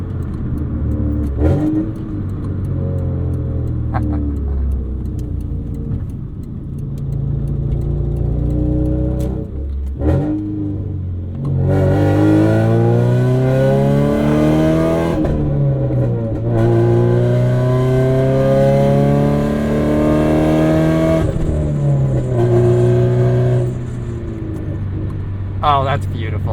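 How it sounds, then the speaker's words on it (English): A 1990 Acura Integra RS with a cheap eBay exhaust revs hard and accelerates, the engine note climbing and falling in long sweeps, loud and close, while people talk throughout. "Anytime you hear a Civic at 3 a.m., that's the sound you hear, the eBay exhaust"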